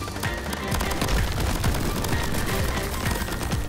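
Dense, continuous barrage of explosions and rapid gunfire from the video game Crab Champions, loud and layered throughout with no pauses.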